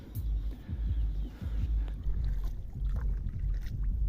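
A rowboat is paddled through a flooded forest, with steady low sloshing and knocking water sounds close by under some wind noise and no talking.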